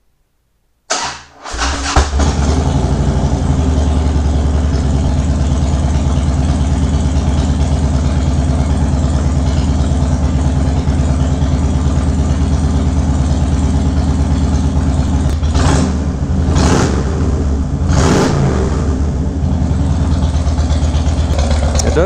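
A 2011 Harley-Davidson Wide Glide V-twin engine catches after a brief start and settles into a loud, steady idle close by, with a few short throttle blips near the end.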